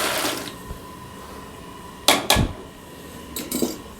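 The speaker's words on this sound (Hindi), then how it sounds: "इसके अंदर हम ये शामिल करने लगे हैं जो चने हमने लिए थे उबाल के रखे हैं" Boiled chickpeas, a kilo of them, tipped into a pot of water for street-style chana pulao, giving two sharp clattering splashes in close succession, then a softer splash and clink a moment later in an otherwise quiet kitchen.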